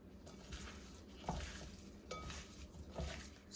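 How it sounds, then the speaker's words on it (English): Seasoned shrimp is stirred in a bowl with green seasoning and olive oil, giving soft wet squelches and a few utensil clinks against the bowl, close and fairly quiet with no talking. "I'm going in with that green seasoning and the olive oil. Now, just going to mix everything together."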